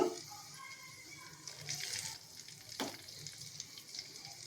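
Freshly ground tomato pickle paste goes into a hot pan and hisses in a soft, steady sizzle. A brief clatter cuts through midway, and a faint swell comes near the start.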